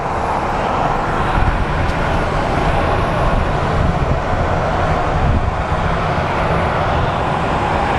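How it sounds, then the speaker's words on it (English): An American Airlines jet on flight 2016 to San Francisco rolls out at Phoenix Sky Harbor International Airport, a loud, continuous engine roar and rumble that stays steady for the whole stretch without any voices. "So American 2016 to San Francisco is rolling out."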